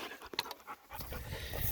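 A hunting dog on a shed-antler hunt pants rapidly and close by, quick rhythmic huffs with a few sharper breaths, growing steadier toward the end.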